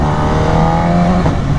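A BMW S1000RR Gen 2 superbike engine revs hard, a loud close high-pitched howl with a brief rising flare near the end, sounding alone.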